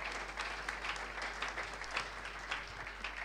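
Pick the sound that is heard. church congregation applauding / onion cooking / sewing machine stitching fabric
church congregation applauding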